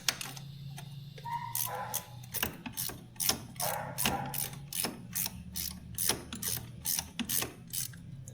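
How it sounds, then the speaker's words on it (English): A ratchet wrench tightens bolts on a Yamaha Grizzly 700 ATV wheel, its pawl clicking in steady, close repeated bursts for several seconds with no talking. "We can use a ratchet wrench on these."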